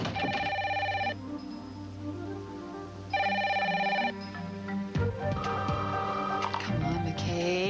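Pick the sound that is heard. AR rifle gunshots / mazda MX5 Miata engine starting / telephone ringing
telephone ringing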